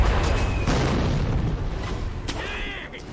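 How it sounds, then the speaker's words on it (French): Cannon fire and bombs in the video game Sekiro: a continuous heavy rumble with dull booming blasts throughout, plus a sharper burst near the end. "Il me tire dessus au canon en fait."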